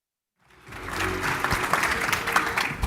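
Crowd applause welcoming Pete Buttigieg and a panel at a Democratic Party event, rising from silence into sustained, dense clapping that stays loud to the end.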